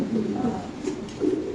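A Lahori pigeon, one of a pair offered for sale, gives a few soft, nearby coos in a low, rolling rhythm.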